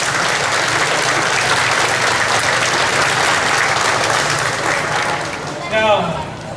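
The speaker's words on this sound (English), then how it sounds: "We can give them a round of applause." Dense, sustained applause from a large crowd at the Hmong Wausau Festival in Wisconsin fills the space steadily before fading slightly, and a voice begins speaking near the end.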